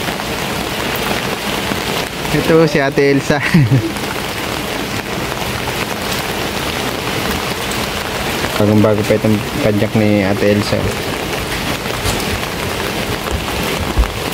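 Steady rain falls continuously in Daet, a soft hiss that stays constant throughout while someone talks briefly twice.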